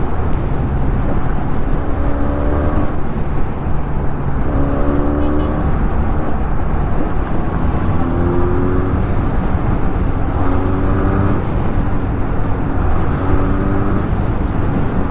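A Benelli 502C cruiser motorcycle engine revs up again and again, each throttle blip rising in pitch over a loud, continuous engine drone.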